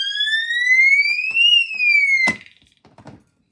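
Fire alarm pulled indoors, blaring a loud rising-then-falling electronic tone for over two seconds before cutting off abruptly with a sharp clatter, followed by faint scattered knocks and near silence.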